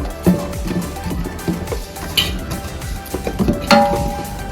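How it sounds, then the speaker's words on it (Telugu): Sesame seeds and ghee being stirred in a pan for Sankranti ariselu, with scattered spoon scrapes and metallic clinks over a soft background sizzle, close and moderately loud. "నెయ్యి వేసుకొని మంచిగా కలుపుకోవాలి."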